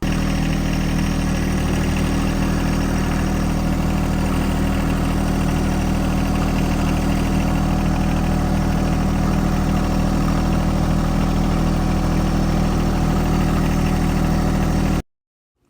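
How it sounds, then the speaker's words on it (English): A tractor engine with a front end loader runs steadily at a loud, even idle-like drone while rebar stakes are pulled from the ground, then the sound cuts off abruptly at the end. "I'm pulling these rebarb up with a front end loader on the tractor."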